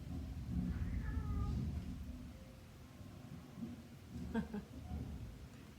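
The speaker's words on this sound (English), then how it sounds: "Cats." Playing cats give several short meows and chirps indoors, fairly faint, with a brief rustle in between.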